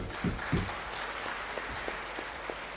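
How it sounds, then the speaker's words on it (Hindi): A crowd claps in a brief burst of applause over a murmuring room, fading into a low background hum. "उनके लिए एक जोरदार ताली होना चाहिए।"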